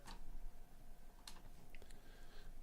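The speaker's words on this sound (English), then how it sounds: "It's probably keyboard." A computer keyboard is typed on softly in a few scattered, faint clicks and taps against low background hiss, with no talk over them.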